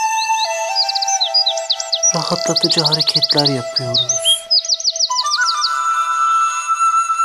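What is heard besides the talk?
birds chirping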